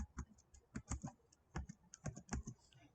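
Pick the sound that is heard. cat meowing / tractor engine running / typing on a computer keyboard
typing on a computer keyboard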